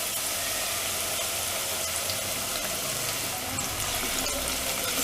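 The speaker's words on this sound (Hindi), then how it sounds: "ऑयल गर्म हो चुका है तो इसमें अब हम ये प्याज ऐड कर देते हैं।" Chopped onion sizzles in hot mustard oil in a pan, giving a steady, dense frying hiss that holds evenly from start to finish with no talking.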